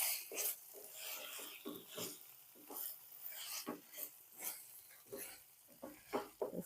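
Prawn curry being stirred in a pan, with fresh coriander just added: repeated scraping, rasping strokes of a spoon against the pan, alone and close, coming in an uneven rhythm of about a dozen bursts.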